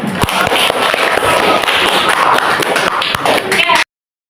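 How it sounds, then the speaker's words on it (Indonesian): A classroom of students gives a group a burst of clapping that stays dense and loud for nearly four seconds, then stops abruptly. "Kasih aplaus bagus."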